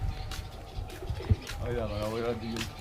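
Pigeons coo in soft, low rolling phrases near the microphone in a loft, with some rustling and a faint voice in the background.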